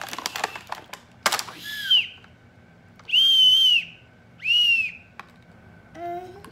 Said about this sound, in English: Are you blowing the whistle?